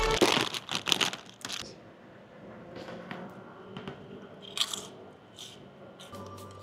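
Crisp crunching bites into a squid-flavoured snack chip, with several sharp crackles up front and then softer chewing and crinkles, close to the mic with no talking.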